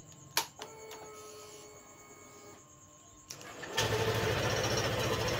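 On a Honda PCX scooter with a starting problem, the electric starter whirs and clicks in short attempts. Close by, the engine then catches and settles into a steady, louder running hum.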